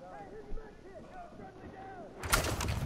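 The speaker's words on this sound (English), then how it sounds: "Oh, we're taking a lot of enemy fire here!" Battlefield 4 gunfire erupts with loud, sharp blasts close by near the end, following a quieter stretch of game sound, with voices talking over the action.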